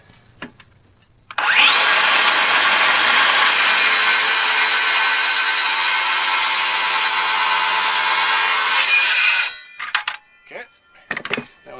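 A power saw cuts through wood in one continuous loud, close pass of about eight seconds, starting abruptly and stopping cleanly, followed by quiet knocks and handling sounds.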